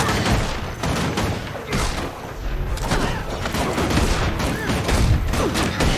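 Rapid, dense bursts of gunfire from a gun in a fantasy MMO game, heavy booming volleys running continuously and loudly throughout.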